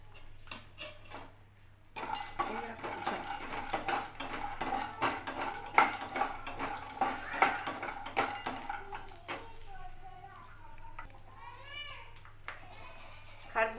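Pistachios and other dry fruits stirred as they fry in a pan for a dry-fruit laddu, giving a busy run of scraping, ticking clinks from the spatula against the pan, with a brief quieter stretch and some faint talk.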